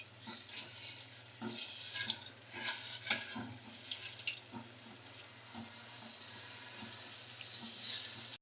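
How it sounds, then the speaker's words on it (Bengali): Rice and lentils, masoor and mashkalai dal, being stir-fried with meat for khichuri, heard as soft frying and irregular scraping stirs against the pot, with a steady low hum beneath. "চাল ডাল দিয়ে আবার ভালো মতো এখন কষাই নিব"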